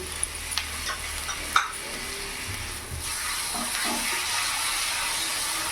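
Tomato paste and other ingredients stirred together in a pan for a duck egg and baby potato curry, with a steady sizzling hiss and soft scraping strokes, a sharp tap from the spatula near the start.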